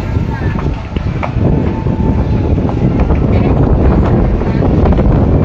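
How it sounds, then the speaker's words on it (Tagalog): Strong wind buffets the microphone in a constant roar at a fire on Cayetano Avenue, Taguig, with a low rumbling drone and scattered knocks and faint voices beneath. "Grabe, lakas pa naman ng hangin."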